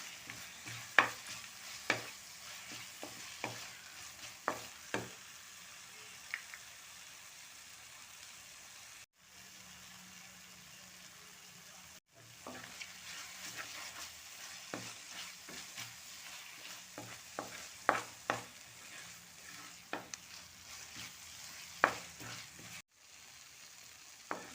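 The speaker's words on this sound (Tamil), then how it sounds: "இப்போ நம்ம முந்திரி பருப்பு சேர்த்து நல்லா கலந்து விட்டுக்கலாம்" Ash gourd halwa with cashews is stirred in a pan, with a faint steady sizzle under scattered soft scraping strokes and short pauses, and no talk.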